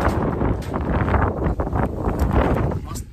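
Steady wind gusting and buffeting against the microphone, a constant rough roar with rustling and no clear pauses.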